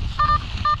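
A metal detector gives two short electronic beeps over a faint outdoor background while searching for finds with a child, the steady tones clear and close.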